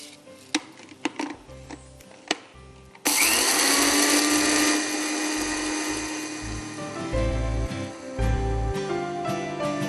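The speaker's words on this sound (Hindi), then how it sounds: "अब इसमें हम ये मसाला डाल के पीस लेते हैं।" A blender grinds roasted whole coriander and cumin seeds for chicken curry masala, a loud steady whine running for several seconds after some knocks and clatter, then a second rougher burst.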